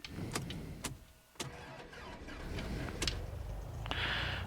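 A light aircraft engine starting up in the X-Plane 12 flight simulator: a few sharp clicks and bursts, then a steady low mechanical drone that builds and runs on, close and moderately loud with no talk.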